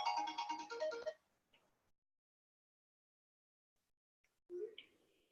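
A phone ringtone plays loud and close for about a second, then cuts off into near silence before a brief fainter tone returns at the end.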